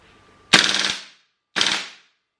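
An HPA-powered airsoft gas-blowback rifle fires BBs on full auto in two short bursts, each a rapid string of sharp, loud cracks, separated by about half a second of silence.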